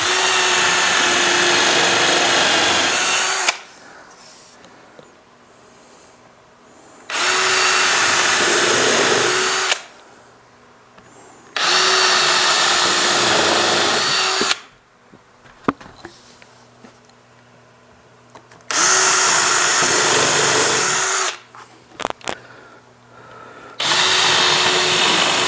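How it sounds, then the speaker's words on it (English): A countersink drill whirs in four separate bursts of several seconds each while drilling screw holes in laminate stair nosing, close and loud, with quiet handling noises in the gaps. "I'm going to use this drill here, you know, so it's a countersink drill"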